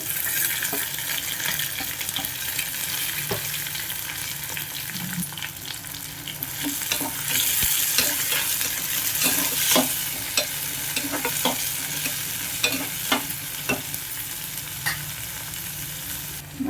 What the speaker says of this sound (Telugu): ఎర్రగడ్డ ముక్కలు పడేసేసుకొని కొంచెం బాగా వేగనిచ్చేసుకోవాలండి